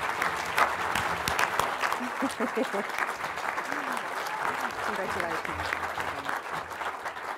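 Sustained audience applause at an awards ceremony for a documentary directing prize, a steady wash of clapping filling the whole stretch while someone speaks briefly over it.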